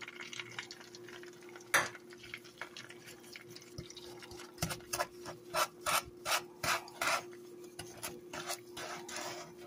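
Brown sugar is stirred into melted butter in a stovetop pot, giving a series of rhythmic scraping, grinding strokes that grow steadier in the second half, close and fairly clear with a low hum behind.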